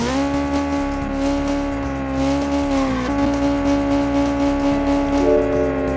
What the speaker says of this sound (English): I'm just destroying the engine right now.